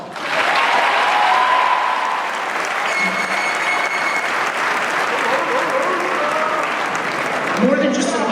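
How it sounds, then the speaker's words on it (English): A graduation ceremony audience claps steadily for a group of honor students, a dense, sustained wash of applause that fills the hall, with brief crowd murmurs and faint voices near the end. "Please join me as we honor this group with a round of applause."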